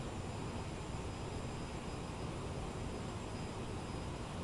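CRJ900 jet engines in a flight simulator with a little throttle added: a constant, dense turbine roar and hiss with a faint steady whine, unchanging and alone without talk.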